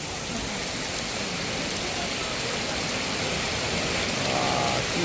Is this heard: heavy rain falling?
yes